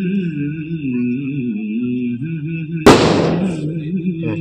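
A single firecracker bursts sharply at a baby shower celebration, one loud crack that decays quickly, heard over a steady musical drone and background noise.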